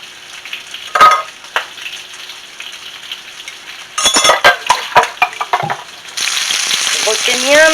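Pork chops fry in a pan for pork chop soup, a steady sizzle broken by sharp crackles and pops, then swelling into a loud, dense hiss near the end.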